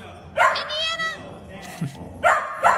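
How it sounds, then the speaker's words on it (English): A dog in a played clip of dogs reacting to their names being called gives a few sharp, close barks and a whiny, drawn-out yelp in the middle, with voices talking around it. "Dogs reacting to their names being called."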